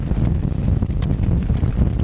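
Strong spring gusts at a lakeside highland campsite buffet the microphone, giving a loud, continuous low roar and rumble with no break.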